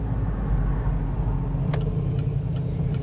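A Camaro SS convertible with a V8 and a six-speed manual gearbox rumbles loudly and steadily from inside the car while a downshift is rev-matched.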